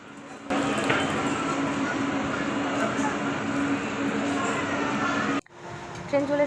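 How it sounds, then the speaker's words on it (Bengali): A local passenger train pulls into a railway station near Kolkata, a loud continuous rumble and rolling clatter that cuts off abruptly, with people talking over it. "ট্রেন চলে এসেছে"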